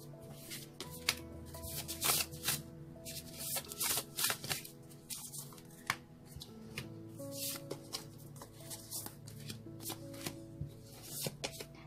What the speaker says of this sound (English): I don't know why they keep on asking me to shuffle your cards.